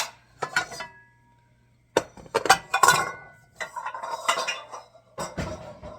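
Clinks and clatter of a bowl and dishes being handled in a home kitchen while making cheesy lasagna, as a bowl of mozzarella cheese is taken out. Sharp knocks and scrapes come in a few close bursts with short pauses between.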